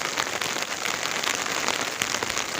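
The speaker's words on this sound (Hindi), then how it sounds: "ये देखिए कितनी फास्ट बारिश हो रही है।" Heavy January rain pouring down in a village, a dense, loud, steady hiss of drops hitting surfaces, with no voices.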